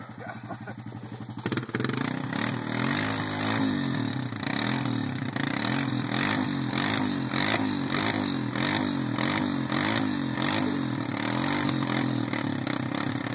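A dirt bike stuck in deep mud revs hard and steadily, its loud buzzing engine rising and falling in a throttled pulse after a brief rough start, with people shouting over it.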